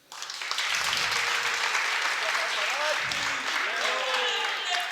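Dense crowd applause at a Jain religious gathering in Kundalpur, rising within the first half second and holding steady, with faint voices and a few whistle-like tones mixed in.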